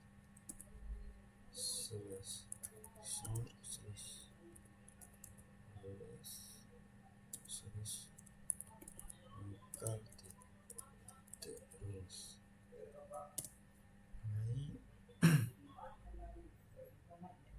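Computer keyboard typing clicks in short, quiet bursts at close range, with some soft background noise and throat sounds.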